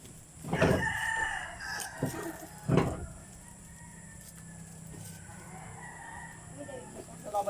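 On a farm, a rooster crows up close twice amid scattered hen clucks, with a low hum in the background and some faint voices.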